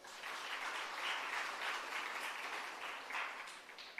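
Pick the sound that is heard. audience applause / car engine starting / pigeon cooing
audience applause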